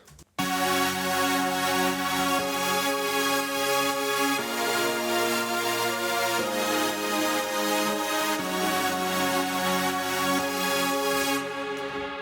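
Synth bass plays a steady eighth-note line under a dense, sustained synth texture, loud and continuous, with chord changes every few seconds and no voices.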